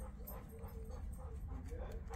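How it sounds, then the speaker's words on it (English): Guard dogs yip and whimper in short bursts around a shop where an old 1968 Dodge Coronet is being worked on, the cries fairly faint and repeated over a steady low rumble. "Those the guard dogs, just so you know."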